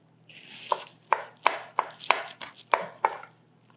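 A knife minces food on a cutting board in eight crisp, evenly spaced chops, close and distinct with short gaps between strokes.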